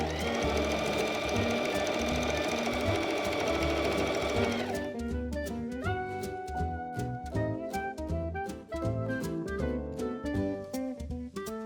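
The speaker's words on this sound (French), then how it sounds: "le biais, je vais le replier en deux et faire une surpiqûre tout le long des 30 mètres." A sewing machine topstitches along a long length of bias tape folded in half. The motor runs close and loud in a sustained whir, then breaks into a rapid, regular stitching patter that continues to the end.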